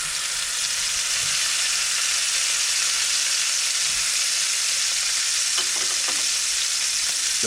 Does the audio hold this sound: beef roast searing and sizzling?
yes